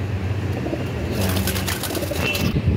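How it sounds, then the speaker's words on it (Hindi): Pigeons coo softly in a loft amid a busy background of rustling and low hum, a short muffled bird sound with no clear talk. "ये देखिए भाई का घर का, ये एक आँख वाला कबूतर है, काला दाना।"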